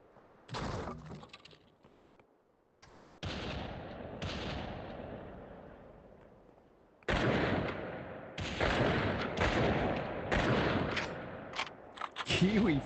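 Gunfire in the VR battle royale Population One at a live exhibition match, a player firing into the air at a distant opponent: bursts of loud shots in clusters, with gaps between them, under a commentator's ongoing talk.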